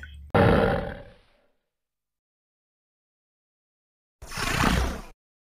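Two loud, deep Sumatran tiger roars separated by several seconds of silence, each a rough, rumbling burst that swells and fades.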